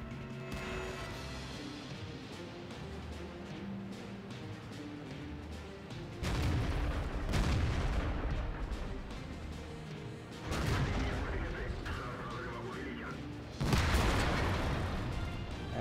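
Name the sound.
tank gunfire hitting the player in the video game World of Tanks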